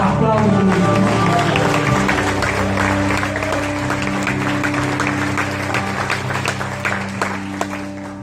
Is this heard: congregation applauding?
yes